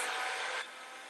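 A heat tool blows with a steady broadband hiss over a WoodUbend moulding being pressed onto a surface, close and fairly quiet, then cuts down to a softer airy whir partway through.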